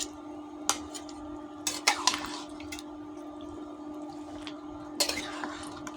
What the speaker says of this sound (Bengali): এখন আমি ভালো করে নেড়ে দেবো